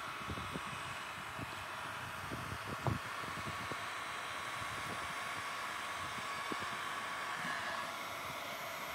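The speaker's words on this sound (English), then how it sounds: "now I'm removing any moisture with the heat gun" A heat gun blows a steady, faint airy roar while drying moisture from a sailboat repair, broken by scattered soft clicks and knocks of handling.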